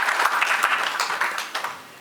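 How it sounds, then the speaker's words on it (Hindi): A short burst of crowd applause at an award ceremony, many hands clapping together loudly, fading slightly toward the end. "एक बार हम जोरदार तालियों से आप सभी का उत्साहवर्धन करते हैं।"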